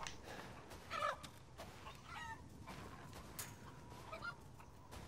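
Chickens cluck in a village in Resident Evil Village, several short, faint clucks and squawks scattered over a quiet background, with no speech.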